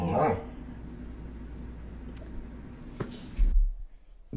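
A dog gives a short bark near the start, then a faint whine, with another sharp sound later against a low background hum.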